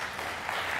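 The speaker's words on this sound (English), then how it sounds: "Give yourself a round of applause for just being here." Audience applause at a business technology conference talk, a short burst of dense, even clapping filling the whole moment.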